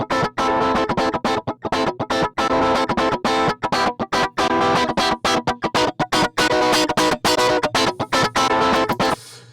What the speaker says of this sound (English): as I had the tone all the way down at 0, there wasn't a lot of high end to our distortion